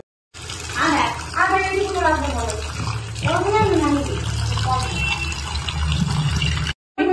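Tap water runs steadily while meat is washed in a home kitchen, a continuous broadband rush under loud, close conversation that carries on throughout.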